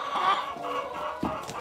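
Hens on a French farm cluck and murmur in a short, close burst of soft, throaty calls.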